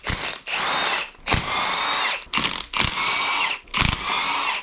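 Power tool removing bolts from a damaged Mercedes M113K AMG engine during a teardown, several loud, close bursts of high whining drill noise separated by brief pauses, each starting with a sharp mechanical clack.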